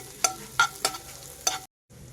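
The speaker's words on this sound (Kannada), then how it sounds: "ನೋಡಿ ನಾನಿಲ್ಲಿ ಇದಕ್ಕೆ ಸಣ್ಣದಾಗಿ ಹೆಚ್ಚಿರುವಂಥ ಬೆಳ್ಳುಳ್ಳಿ ಮತ್ತು ಕೊತ್ತಂಬರಿ ಸೊಪ್ಪನ್ನು ಹಾಕ್ಕೊಂಡಿದ್ದೀನಿ" Finely chopped garlic and coriander leaves in melted butter in a pan, with soft frying hiss and a few sharp stirring clicks, near and without speech.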